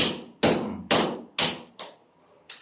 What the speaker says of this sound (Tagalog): sa bawat hataw mo naman, ay mayroon ka namang matitipak dyan